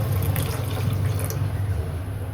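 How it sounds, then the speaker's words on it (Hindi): Milk poured into tea already at a boil in a pot, a steady liquid rush with a low bubbling rumble throughout, fairly close and alone without talk. "ओके तो गाइस हम लोग इसमें डालेंगे दूध, फिर चाय अच्छे से बॉईल हो चुकी है।"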